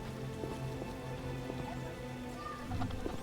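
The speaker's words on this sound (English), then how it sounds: "What a downpour!" Steady rain pours down in a medieval town in The Witcher video game, a constant dense patter of drops on surfaces with faint hoof-like clops in the background.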